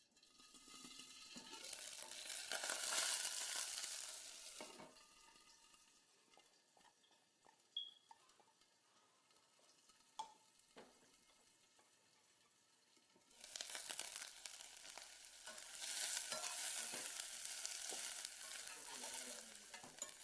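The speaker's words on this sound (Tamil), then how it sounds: "வெங்காயம் நல்லா வதங்கட்டும்." Onions sizzle and crackle steadily in a hot pan, louder at the start and end, with occasional stirring clinks in the quieter middle stretch.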